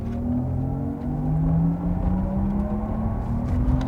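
A Porsche Taycan GTS electric car with its synthetic drive sound on gives a smooth, rising, spaceship-like tonal hum over low road rumble, steady and close from inside, without talk.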